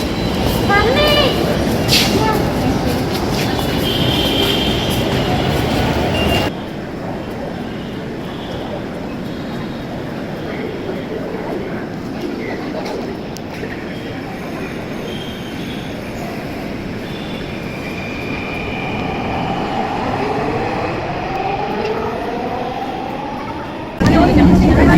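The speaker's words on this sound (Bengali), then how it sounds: "This train is bound for Motijhil." A Dhaka metro train runs steadily throughout, with rumbling wheels and rail noise, brief squealing tones and a loud surge near the end, while people talk and an onboard announcement plays.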